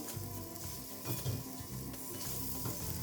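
Roasted semolina with raisins and cardamom powder being stir-fried in a pan, a faint, low sizzle with soft, muffled stirring scrapes, quiet and close with no talk.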